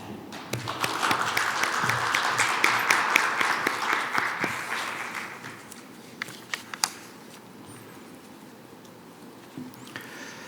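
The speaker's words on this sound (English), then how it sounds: "Please welcome him with a warm round of applause." An audience at a trade association opening ceremony applauds to welcome a speaker to the podium. Dense clapping fills the first few seconds, then thins to scattered claps and quiet.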